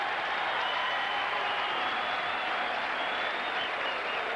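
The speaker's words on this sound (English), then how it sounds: "And Dick Versace getting a round of applause as he was up protesting the call as only he can." A basketball crowd at Bradley's home game against Wichita State in 1985 applauds coach Dick Versace after he protests a call, producing a steady, dense wash of clapping and crowd noise throughout.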